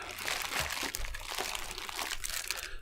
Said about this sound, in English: squeeze out the air until it's as airtight as you can get it without crushing